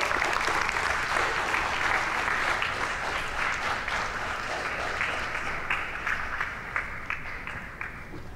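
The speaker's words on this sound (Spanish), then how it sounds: "Démosle un aplauso" Sustained applause from an audience, dense steady clapping that carries on throughout and slowly thins toward the end.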